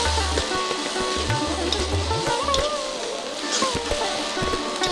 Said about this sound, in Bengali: এখন সুন্দর করে ভেজে নিব।